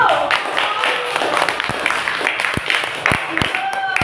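Classroom students give a round of applause, loose irregular clapping under ongoing chatter and voices, with a few sharper claps standing out near the end.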